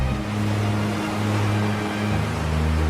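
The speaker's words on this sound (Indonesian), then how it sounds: "gelombang laut yang amat dahsyat menerjang perahu yang mereka tumpangi" Heavy sea waves surge against a boat in a continuous, dense roar of rushing water with a low rumbling undertone, steady and loud throughout without a break.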